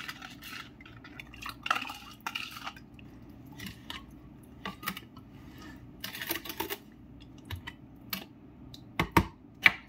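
A spoon clinks and scrapes against a container while ingredients are mixed by hand, with irregular taps and clatters, a few sharper knocks near the end, and no talking.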